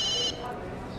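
A telephone ringtone trills loudly for about a third of a second and then cuts off, leaving a low background hum.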